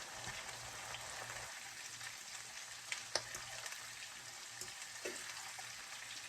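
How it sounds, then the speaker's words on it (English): Corn frying in a pan gives a steady, soft sizzle and crackle with a few sharper pops, continuous and fairly quiet throughout. "That corn is frying beautifully."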